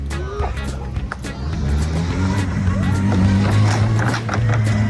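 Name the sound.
motorcycle with GSXR 1000 engine running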